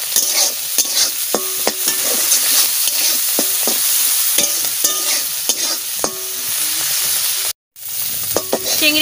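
Prawns seasoned with turmeric and salt sizzle steadily in a pan while a utensil scrapes and stirs in repeated strokes, a brief cut of silence near the end before the frying resumes.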